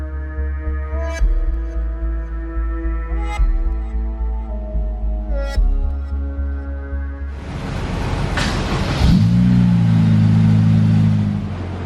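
A Honda S2000 fitted with a titanium exhaust and wastegate-controlled boost idles in a steady rhythmic burble with three sharp blips, then revs hard into a loud sustained roar that settles back down.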